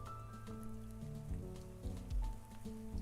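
Rain falls in a video game world as a steady, soft patter with a low musical drone underneath and no talking.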